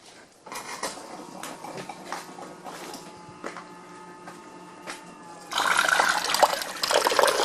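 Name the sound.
central heating pump pushing water towards open expansion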